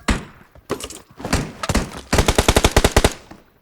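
Gunfire in the mobile battle royale game PUBG Mobile, loud close shots, first in scattered bursts and single cracks, then a rapid automatic volley of about a dozen evenly spaced rounds.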